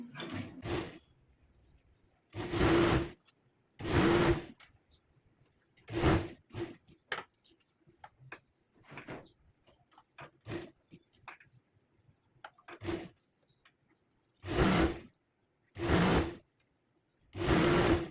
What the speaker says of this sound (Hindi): और अब आपको किनारे से सिलाई लगानी है